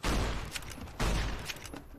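Loud gunfire in Fallout: New Vegas comes in two close, heavy blasts about a second apart, each followed by a rumbling, crackling decay.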